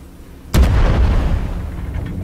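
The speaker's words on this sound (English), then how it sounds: "he's firing a cannon" A cannon fires in the online game Worlds Adrift, one sudden loud boom that rolls into a long rumbling decay and fades slowly, with no voices over it.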